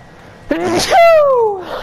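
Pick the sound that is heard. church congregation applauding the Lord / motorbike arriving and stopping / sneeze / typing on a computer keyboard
sneeze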